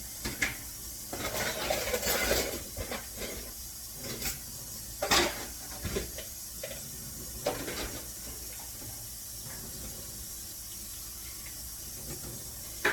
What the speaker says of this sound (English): So I'm put my dish in the washer.